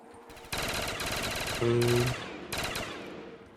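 Video game automatic gunfire crackles in several loud, rapid bursts separated by short pauses, with a brief tonal ring layered over one burst.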